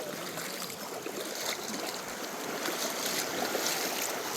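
A clear forest stream flowing along the Sabarimala forest route, a continuous broadband rush of water, fairly close and steady with no talk.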